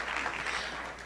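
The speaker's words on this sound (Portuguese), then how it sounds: "Vamos dar uma salva de palmas para eles também" Steady applause from an audience at a seminar lecture, a dense even clatter of clapping that holds at a constant level for about a second.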